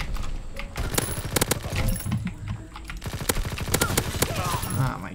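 Light machine gun fire in Call of Duty WWII rattles in rapid, fairly close bursts, mixed with other scattered gunfire and clicking, under a busy game soundscape.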